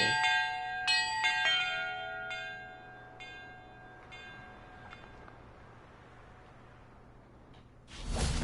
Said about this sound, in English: Bell.